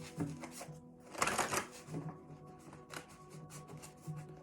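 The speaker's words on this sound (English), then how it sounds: "I'm going to pull from my index cards" Index cards are shuffled close up in quick riffling bursts, a soft papery flutter with a denser flurry in the middle, fairly quiet, with no talking.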